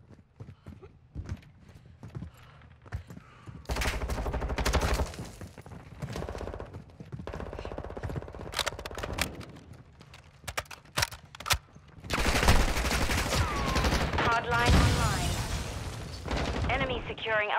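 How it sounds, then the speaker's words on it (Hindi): Hip-fired MP5 Lachmann-Sub submachine gun bursts in a video game, several rapid volleys layered with footsteps, impacts and game effects, busiest in the second half, with someone talking over parts of the action. "ओके, दो किल हो गए हमारे हिप फायर के साथ।"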